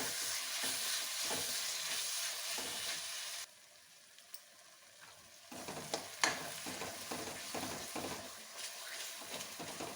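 Tomatoes cook for chole in a hot pan, a continuous frying sizzle broken by a short quieter gap, with scattered stirring scrapes and clicks, no talking.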